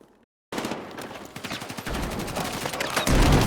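An M4 rifle fires in Battlefield 6, a rapid automatic burst of sharp, loud gunshots that starts abruptly after a brief silence and runs continuously to the end, with a heavy low boom near the close.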